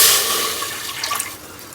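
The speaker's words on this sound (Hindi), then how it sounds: "पहले हमने 1 गिलास पानी का डालना है।" Water is poured from a glass into a pot for cooking beef liver, a brief splashing gush that is loudest at the start and then trails off into a few trickles and drips.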